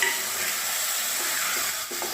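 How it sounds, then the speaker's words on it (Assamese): Chicken with turmeric and salt fries in a hot pan, giving a steady, close sizzle and hiss that holds evenly with no voices. "চিকেনখিনি দি এতিয়া গেছটো বঢ়াই দিম আৰু গেছটো বঢ়াই 10 মিনিটমান ভাজি ল'ম এনেদৰে।"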